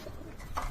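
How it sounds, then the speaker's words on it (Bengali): Pigeons at a home loft in Old Dhaka give a brief soft coo, close by against low background rumble. "দেখ আপনাদের কবুতর গুলো দেখাই"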